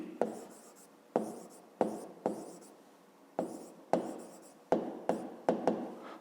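Handwriting on paper during a fifth-grade maths exercise gives close, quiet pen strokes in short scratchy bursts, each starting with a small tap and fading, repeated about a dozen times with no voice over it.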